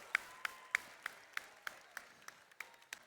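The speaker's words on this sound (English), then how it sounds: "Everyone give a round of your applause for your seniors" Sparse, slow clapping from a few hands at a FIRST Tech Challenge world championship event honouring high school seniors, about ten distinct claps in a steady rhythm, faint and spaced apart.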